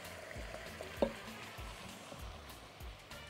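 Onions frying with meat in a pot, giving a continuous close sizzle with scattered stirring scrapes and one brief clatter, with no talking.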